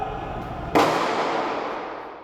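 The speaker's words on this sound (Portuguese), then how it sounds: "Eles trocaram tiros com policiais militares." A single sharp gunshot cracks out loud and near during a shootout between jewelry store robbers and police, then trails off into a long, fading echo.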